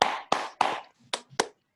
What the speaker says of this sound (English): So can we give all of them a big round of applause?